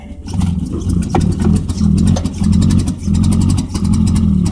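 A Suzuki LJ20 two-stroke engine runs just after its first start, loud and close, with a rough, pulsing idle and repeated throttle blips that swell and fade.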